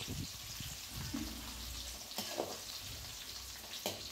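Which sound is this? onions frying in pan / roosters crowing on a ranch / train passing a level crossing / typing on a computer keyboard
onions frying in pan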